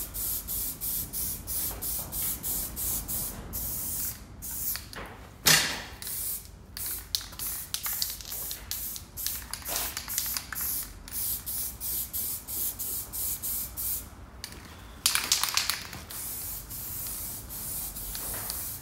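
Aerosol spray paint applied to rusty car brake drums in a garage: repeated short and long hissing bursts with brief pauses and the rattle of the can between passes, close and steady.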